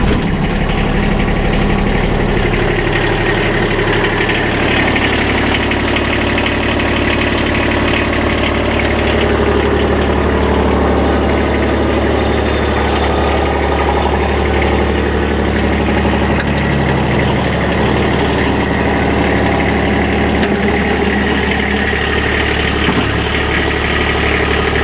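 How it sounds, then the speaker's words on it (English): Diesel engine of a 2020 Kubota RTV X1100C side-by-side utility vehicle idling, a loud, steady close-up chug with constant vibration and no voices. "And this sounds awesome being the diesel."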